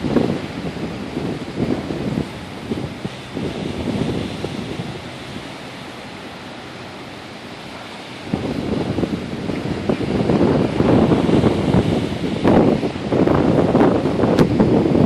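Strong gusty wind buffets the microphone in a lakeside park with waves, roaring loudly, easing briefly in the middle, then surging back with rushing bursts.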